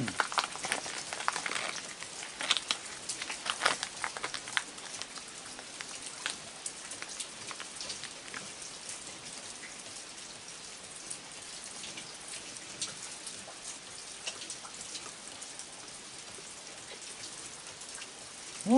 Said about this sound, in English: Don't be standing in the rain.